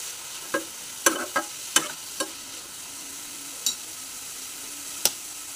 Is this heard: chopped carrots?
yes